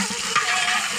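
Food fries in oil in a village picnic pot while being stirred, a brief close sizzle with a scraping stir, no talking.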